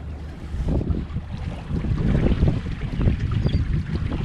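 A fishing boat's motor runs in gear, a steady low rumble close by mixed with wash from the water and wind buffeting.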